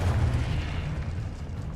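A spell blast in a wizard video game lands as one deep, rumbling boom that fades out over a second or two, heavy and close, with no voices.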